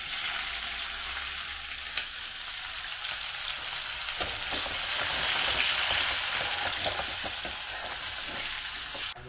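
Chicken and onion sizzle and spit in a blackened wok, a steady loud frying hiss with occasional stirring clatter, close up and without voices.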